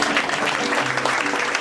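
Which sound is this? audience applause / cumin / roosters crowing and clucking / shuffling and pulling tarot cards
audience applause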